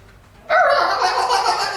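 A voice imitates a sugar glider's bark, a sudden raspy, chattering burst that starts abruptly and holds for about a second.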